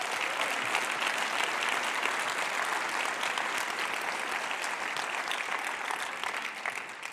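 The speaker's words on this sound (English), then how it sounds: "Can we give a round of applause to the Ember guides team?" A large conference audience at a software developer event claps steadily and loudly for a volunteer documentation team, the dense applause sustained throughout before easing slightly at the end.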